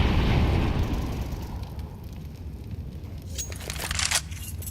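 A grenade banked off a girder detonates in a Counter-Strike match, a broad rumbling blast that fades into a steady low roar, with sharper crackling bursts near the end.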